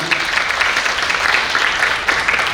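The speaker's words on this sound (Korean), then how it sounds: "다시 한 박수 부탁드리겠습니다" An audience at a political panel session claps steadily for a few seconds, a dense and fairly loud burst of applause with no voices over it.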